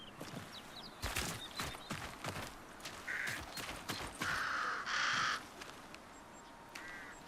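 Crows caw in an extraction shooter game, several harsh calls in bursts over a few seconds, fairly close, amid rustling footsteps and faint ambient noise, with no talking.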